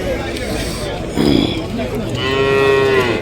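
Cattle moo loudly nearby at a cow market, a low drawn-out call near the end and a rougher bellow earlier, with background chatter from people.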